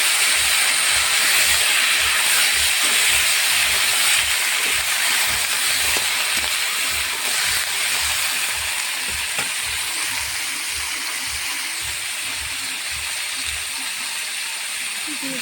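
Potatoes and chopped potato stalks fry in hot oil over a dry chilli and cumin tempering, a dense continuous sizzling hiss that stays loud and even throughout, with a faint regular low thumping underneath.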